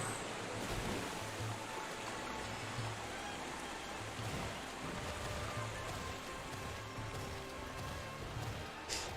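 Steady rushing waterfall ambience from the Pokémon Violet video game, a continuous even wash of water noise at low level with no talking.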